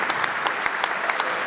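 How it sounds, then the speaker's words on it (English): Crowd in a high school basketball gym applauds veterans during a playoff game, a steady burst of many hands clapping with sharp individual claps standing out, close and continuous. "A nice round of applause as we thank you for your service to our great country."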